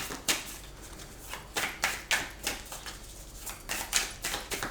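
Two tarot cards rubbed against each other, a run of quick soft scraping strokes in an uneven rhythm, close and quiet with no voices.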